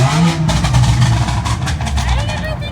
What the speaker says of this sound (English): has Capristo exhaust on his. Sounds pretty nice.